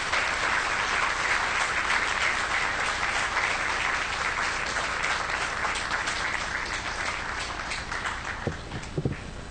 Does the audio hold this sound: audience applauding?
yes